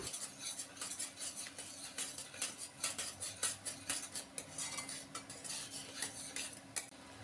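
Spice masala with coriander powder and garam masala being stirred and fried in a pan, heard as steady scraping and clinking of a utensil against metal in repeated strokes over a soft sizzle, close and without speech.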